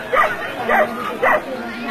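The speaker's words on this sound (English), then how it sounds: "there's a dog barks next to me" A dog barks close by, three short yelping barks spaced evenly, loud and near against a quiet outdoor background.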